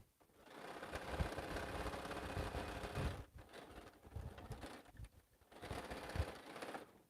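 A sewing machine stitches quilt seams in steady bursts of mechanical whirring, broken by brief pauses, close and moderately loud with no talking.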